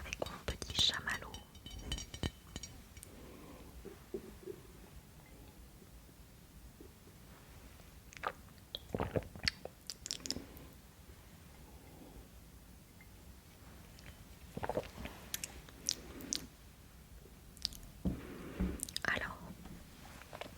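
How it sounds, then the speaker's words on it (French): Soft, close chewing of a marshmallow in an ASMR setting, with sporadic moist squishy bites and mouth clicks spread across the stretch and faint whispering in between. "Je vais goûter un petit peu avec mon petit chamallow."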